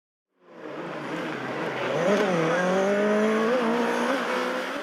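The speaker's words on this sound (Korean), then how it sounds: "거친 배기음이 경기장을 가득 채웁니다." A student-built formula race car on a 700 m track snarls into earshot with a rough exhaust note, its engine tone rising and falling through shifts and revs, loud and sustained.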